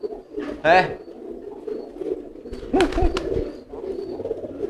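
Soft pigeon coos sound twice, close by, alongside brief chirps and a person talking quietly in the background.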